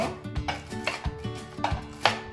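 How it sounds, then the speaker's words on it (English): A kitchen knife slices through a breaded, fried tonkatsu pork cutlet on a board: several crisp, crunchy cuts in an uneven rhythm, close by, with faint clinks of dishes between them. "And then I cut meat like this."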